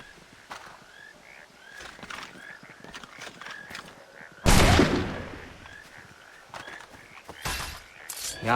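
Gunfire in the video game Assassin's Creed III, a loud sudden shot burst midway and another near the end, over busy game ambience with hooves and brief voice sounds.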